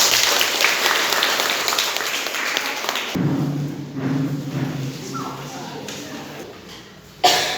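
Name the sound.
applause for group 4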